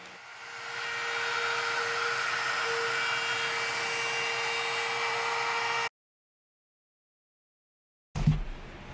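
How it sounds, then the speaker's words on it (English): A vacuum run in reverse as a blower clears sawdust off a sanded wooden camp kitchen case, a loud, steady whooshing roar lasting several seconds before cutting off, followed by a brief thump. "I took a vacuum and blew everything off."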